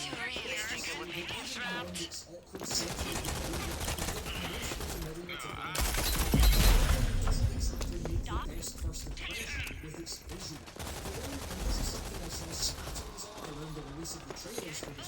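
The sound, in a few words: SMG gunfire in Gears 5 video game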